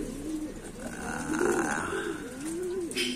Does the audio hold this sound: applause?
no